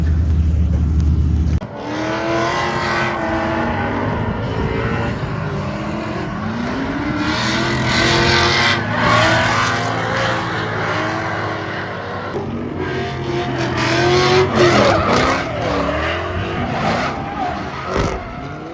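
Drift cars running three- and four-car tandems at an NMRA drift event at Orlando Speed World, engines roaring and revving steadily with tires squealing and skidding across the track, loud and continuous throughout.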